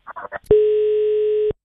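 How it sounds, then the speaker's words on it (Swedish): A single steady telephone ringing tone sounds for about a second while a Norwegian call is being placed. It is clean and even, and it follows a few short spoken words. "Ok, vi ringer."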